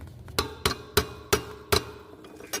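A hammer strikes a part on the EGR system of a 2002 Ford Expedition with a 5.4L engine, six sharp metallic blows at an uneven pace with short gaps, close by.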